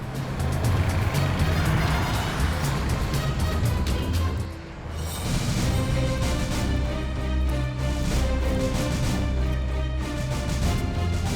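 A car drives along a road at a crawl, its engine and tyre noise a steady, loud rumble that dips briefly midway before carrying on.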